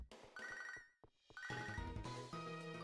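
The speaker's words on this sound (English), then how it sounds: "That phone call is starting to get on my nerves." Electronic phone-call ringtone from Pokemon HeartGold, a bright chiptune jingle of repeated trilling notes with a brief pause midway, playing alone without talk.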